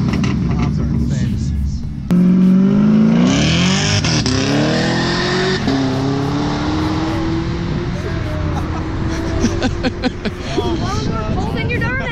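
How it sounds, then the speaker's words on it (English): A Chevrolet Camaro ZL1 sports car makes a loud flyby, its engine revving hard and rising in pitch through the gears before holding a steady roar, close and dominant, with voices talking over it. "It starts with one flyby."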